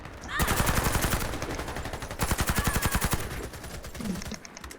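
Rapid automatic fire from a Yellow Emperor ACR rifle in the shooter game Warface rattles in dense bursts, loud and close, with brief pauses between strings of shots and a short break before the last volley.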